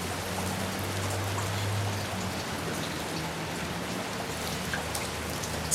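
Steady rain falling outdoors beside a shelter with a corrugated plastic roof, a dense continuous patter and hiss close by, with a low hum underneath and no talking.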